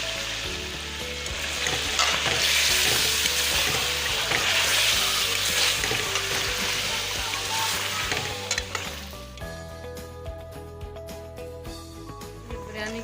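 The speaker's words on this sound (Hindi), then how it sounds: "बिरयानी के लिए प्याज फ्राई कर रही हूँ।" Onions frying in oil for biryani, a strong continuous sizzle that later quiets, with clinks and stirring sounds and a faint background voice.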